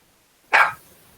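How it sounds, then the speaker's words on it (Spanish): A single sharp bark from a pet dog indoors, loud and close, rising out of a quiet room and fading quickly. "escucho un perro"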